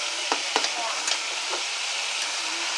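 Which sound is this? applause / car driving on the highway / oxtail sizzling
oxtail sizzling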